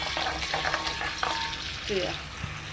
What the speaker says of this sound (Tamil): மற்றது வெந்தயம் கொஞ்சம் நான் உண்டலை போட போகிறேன்